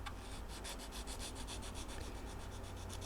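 A hand file rasps steadily across the wooden neck of a 1948 Gibson LG-3 acoustic guitar during a neck reset, a close, even run of rhythmic back-and-forth strokes about five per second with no talking.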